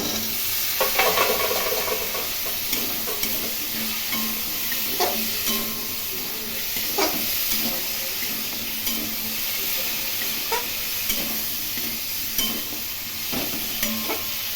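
Cut potato and taro pieces, for a Bengali prawn and taro curry, are stir-fried in a pan with spices, making a loud continuous sizzle broken by regular scraping spatula strokes, close and without talk.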